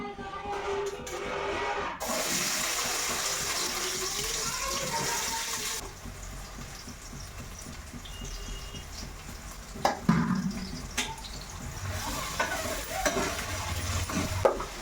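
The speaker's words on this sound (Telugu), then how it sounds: "ఇంకా పచ్చిమిరపకాయలు, ఉల్లిపాయలు అయితే వేసేసుకుంటున్నాను" Green chilies and onions frying in hot oil for chicken curry, a steady sizzle with stirring and clinks, louder in the first seconds then softer with occasional utensil knocks.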